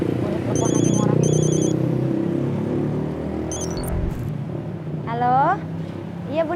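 Telephone ringtone in a bright, repeating electronic trill, two short bursts heard early over steady car engine rumble and background noise, with more tones later.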